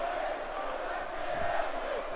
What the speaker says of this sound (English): And you hear the crowd chanting, Bray is gonna kill you.